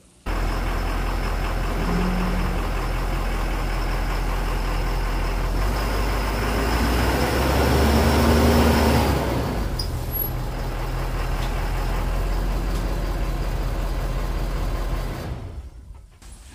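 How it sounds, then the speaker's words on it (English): Ford F450 truck driving onto a four-pad weighing scale, a steady loud diesel engine drone with low rumble that swells briefly midway, then cuts off near the end. "let's get the truck on the scale."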